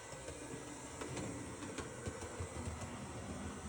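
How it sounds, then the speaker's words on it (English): HO scale model diesel locomotive running along track, a steady low motor whir with light rhythmic clicking from the rails, continuous and fairly quiet. "It sounds like the Athearn locomotives that I'm used to, hearing, I guess."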